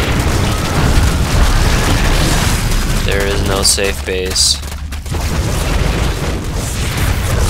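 Protoss photon cannons in a StarCraft 2 match between LiquidTLO's Zerg and FnaticRCAres' Protoss are blown up one after another, giving rumbling booms and crackling bursts over steady game noise while a commentator talks.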